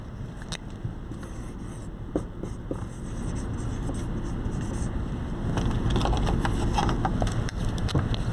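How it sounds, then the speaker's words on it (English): A pen scratching across paper, with short strokes and taps that come in bursts, close and fairly quiet over a steady background hiss. The scratching grows busier toward the end. "So I'm going to write this for us."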